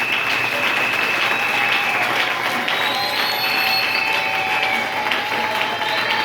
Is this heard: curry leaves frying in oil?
no